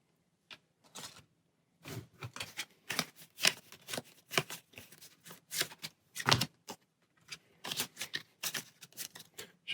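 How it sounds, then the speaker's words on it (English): Playing cards being shuffled into a deck during a Pathfinder Adventure Card Game session, a string of crisp riffling and slapping bursts of varying length separated by short pauses, close and alone. "Shuffle that into our deck."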